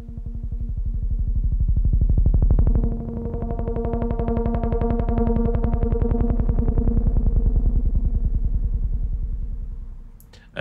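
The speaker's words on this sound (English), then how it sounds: "Now we've got a handful of sound effects style patches" Synthesizer sound-effect patch for atmospheric electronic music: a loud, dense, pulsing drone with rapid rhythmic modulation and chorus-like shimmer, swelling and sustaining for about ten seconds before cutting off abruptly.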